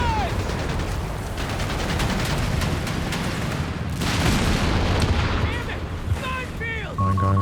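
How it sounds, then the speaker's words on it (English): A mine detonates in Company of Heroes 3 with a heavy boom amid dense battle noise, surrounded by bursts of rapid gunfire and the crackle of a sustained firefight. "Mine going off, scouts very low."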